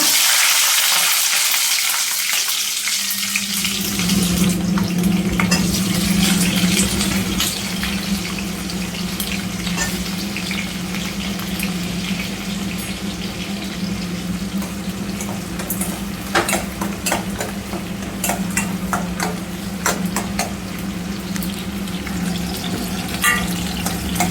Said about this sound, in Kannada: ಬನ್ನಿ ಇವಾಗ ಇದಕ್ಕೆ ಫಸ್ಟು ನಾವು ಹಸಿಮೆಣ್ಸಿನ್ಕಾಯಿನ ಫ್ರೈ ಮಾಡ್ಕೊಳ್ಳೋಣ